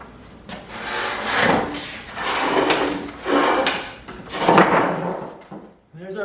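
A wooden workbench frame being lifted and stood upright, with several scraping, rubbing wooden thumps and shuffles at close range.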